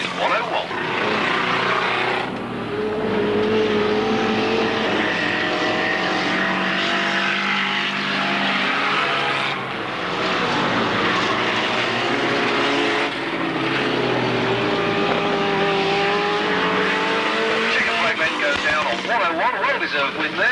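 Race cars lapping the Alwalton track, with engines droning and swelling as they pass at a distance, a steady loud roar under continuous commentary from an announcer.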